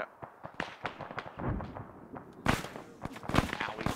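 Gunfire in a military video game: scattered sharp cracks and thumps at varying distances, with a heavier burst of shots in the second half, mixed with muffled movement.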